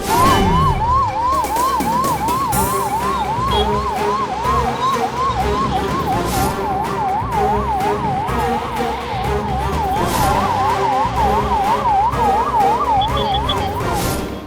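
An Amma Ambulance in Chikkaballapur runs its siren, a loud, steady wailing sweep that rises and falls without a break over a dense, busy background for the whole stretch.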